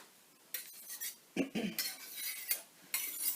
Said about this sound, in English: Just going to mince that slightly for some thinner garlic, smaller chunks.